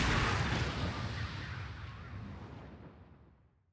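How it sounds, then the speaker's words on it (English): One heavy, booming gunshot in the video game Ghost Trick: Phantom Detective, a loud blast that slowly fades away over several seconds. "I'm going to shoot"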